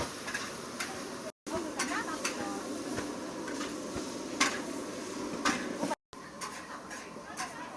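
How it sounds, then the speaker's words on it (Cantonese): Chef stir-frying rice noodles in a wok in a wedding banquet kitchen in Yangjiao, Maoming, Guangdong, with soft sizzling and intermittent metallic clicks and scrapes amid kitchen bustle, a voice talking over it. "依家師傅炒緊嘅係米粉"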